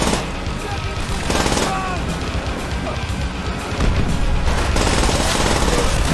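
Heavy gunfire in the Call of Duty: World at War video game, dense machine-gun bursts and overlapping shots running continuously and loud throughout, with game wind noise underneath.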